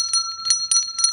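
A small bell struck four times in an even rhythm, each ring bright and metallic with a slightly dull, tired tone, close and clear with no talking.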